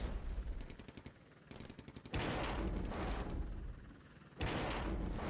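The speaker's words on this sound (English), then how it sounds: "And there go the mortars." Mortar rounds and explosions in the wargame Flashpoint Campaigns: Red Storm, heard as a run of rapid cracking shots followed by two loud, sustained booming blasts with rumbling tails.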